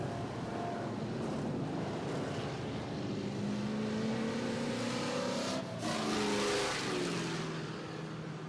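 Limited late model race cars, a Toyota Camry and a Dodge Charger at Barrie Speedway, rumble steadily at a distance under heavy wind buffeting, with a rising engine pitch swelling and passing near the end.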